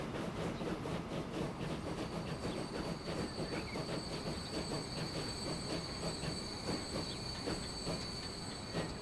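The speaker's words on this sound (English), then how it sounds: "That is another freight or goods train coming along." A freight goods train rolls past in the rail simulation game Transport Fever 2, giving a steady, loud rumble with rhythmic wheel clatter and a faint high squeal. No one talks over it.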